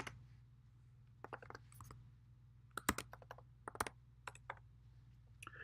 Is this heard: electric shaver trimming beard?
no